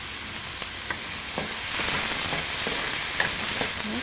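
Tomatoes sizzle and fry in a pan for a Filipino binagoongan eggplant and tofu dish, a steady close crackle broken by occasional scrapes and clinks of a stirring utensil, with no talking.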